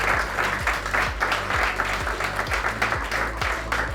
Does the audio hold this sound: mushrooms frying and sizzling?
no